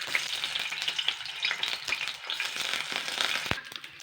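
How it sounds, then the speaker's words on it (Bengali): Maida dough balls frying in white oil in a wok, a dense bubbling sizzle close up with crackles and a sharp knock partway through. "কড়াইতে আমি এবার সাদা তেল দিয়ে দিচ্ছি। এবারে যে ময়দার যে এগগুলো করে রেখেছিলাম, এগুলো আমি আস্তে আস্তে দিয়ে দেবো।"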